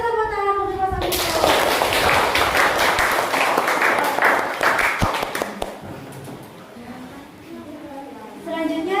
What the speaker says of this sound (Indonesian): kasih tepuk tangan untuk Mas Amirul